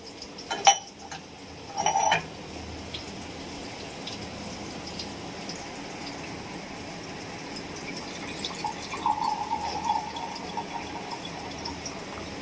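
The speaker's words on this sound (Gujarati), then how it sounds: "હવે આપણે એમાં ત્રણ વાટકી પાણી એડ કરશું" A few clinks of a metal bowl against a pot, then three bowls of water pour in for semolina upma with a soft splashing over a low background hum.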